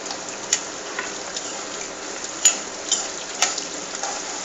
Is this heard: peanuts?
yes